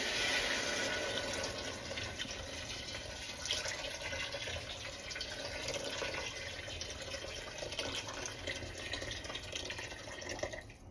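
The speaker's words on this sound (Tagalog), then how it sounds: "Maglalagay na tayo ng tubig." Water pouring steadily into a pot of sautéed chicken for arroz caldo, a continuous close splashing rush that holds for several seconds and tapers off at the end.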